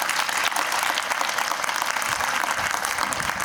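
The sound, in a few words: audience applause at Independence Day celebration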